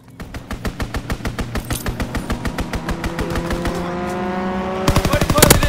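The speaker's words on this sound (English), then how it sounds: "Fighter pilot inbound, strafing the target." Fighter plane strafing with machine guns in the Call of Duty WW2 video game: steady, rapid bursts of gunfire over a droning engine, ending in a denser, louder volley.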